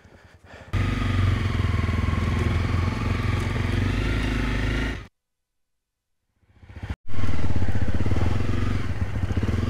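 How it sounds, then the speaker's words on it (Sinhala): Motorcycles on a camping ride to Poonagala, Sri Lanka, start up and rev loudly close by, a steady engine roar that cuts out abruptly, then a second bike fires up and runs loud again. "අනිත් ටිකත් ස්ටාර්ට් කරගෙන අපි යන් අපේ ගමන"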